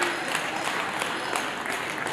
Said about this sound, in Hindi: जरा जोरदार तालियां उनके लिए।